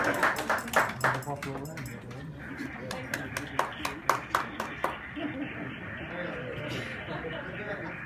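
Applause from a gathered audience right after a toast to an Antarctic party, a cluster of sharp claps at first that thins out while people keep talking over a steady crowd murmur.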